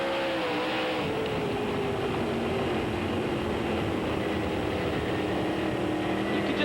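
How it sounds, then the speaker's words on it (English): A dirt late model race car at Knoxville holds a steady, loud engine drone as it works the throttle through a turn, its pitch shifting slightly throughout. "you could actually hear how much he had to stay out of the throttle as he went through the center of the turn"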